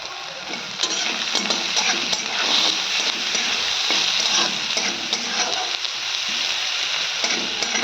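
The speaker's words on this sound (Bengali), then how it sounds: "দেখো কড়াইয়ে তেল দিলাম, এখন পাস্তাটা ছেড়ে দেব" Pasta frying in hot oil in a wok on a home stove gives a loud, steady sizzle with crackling that runs the whole time, close by and without speech.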